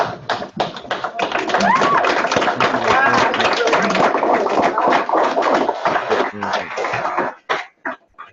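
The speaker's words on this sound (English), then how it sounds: "Let's give a round of applause here." A classroom round of applause: dense, continuous clapping that starts at once, holds steady for about seven seconds, then thins out into a few scattered final claps, with some voices mixed in.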